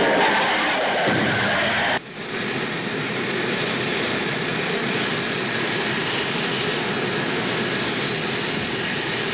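Blue Angels F4 Phantom jets streak past at over 500 mph, a loud continuous roaring jet rush that shifts sharply at about two seconds and then holds as a steady, powerful engine drone.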